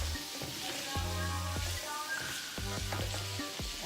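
Chile-lime sauce sizzling in a pan for shrimp linguine, a soft continuous hiss with a few scraping stir strokes and faint tonal hum from the stove or room, close and moderate.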